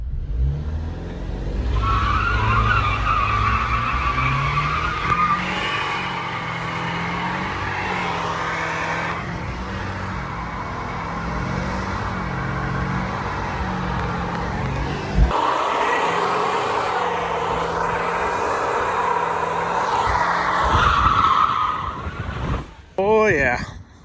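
A Jeep Wrangler does a tire-smoking burnout, its engine droning at high revs with a sustained tire screech for about twenty seconds before cutting off abruptly.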